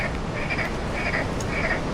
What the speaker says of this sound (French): on a les crapauds avec nous